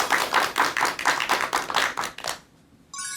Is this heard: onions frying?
no